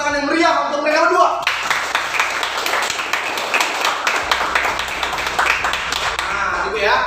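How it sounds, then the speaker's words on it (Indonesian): Students in a classroom clap in a lively, uneven burst after a spoken lead-in, with the clapping fairly close and loud and a voice talking at the start. "Sekali lagi, tepuk tangan yang meriah untuk mereka berdua."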